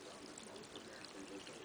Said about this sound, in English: take some Badger opaque cleaner and put enough in it so that the water will become nice and soapy